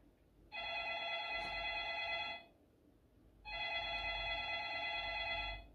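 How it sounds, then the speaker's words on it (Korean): A telephone bell rings in two sustained bursts separated by a short pause, a bright, even trill that sounds clear but moderately quiet, with no voices over it. "바로 전화벨 소리였죠"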